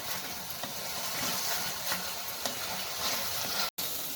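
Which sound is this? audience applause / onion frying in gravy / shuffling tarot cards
onion frying in gravy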